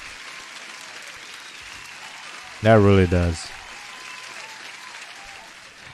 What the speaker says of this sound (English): Now that deserves an applause.